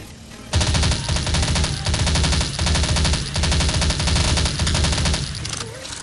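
An MP7A1 submachine gun fires in the video game Crisis Action, loud rapid bursts of gunfire broken by brief pauses and running almost without a break for several seconds.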